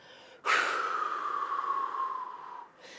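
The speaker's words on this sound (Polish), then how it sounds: "Wdech delikatny, jeszcze raz." A gentle, steady inhale through the nose during a guided breathing exercise, one soft, airy breath lasting about two seconds, close and quiet, alone in a calm room.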